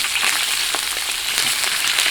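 Oil sizzles loudly and steadily in a hot pan, giving a dense, close hiss with faint crackles and no voices.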